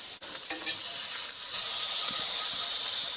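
Meat sizzling in butter in a cast iron pan, a steady loud hiss and crackle of frying close by, with a brief stir near the start and no talking.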